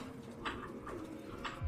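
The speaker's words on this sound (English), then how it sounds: "But why are there so many pigeons in here?" Pigeons coo inside a room in the video game Detroit: Become Human, several soft throaty calls spread over a couple of seconds against a low ambient hum.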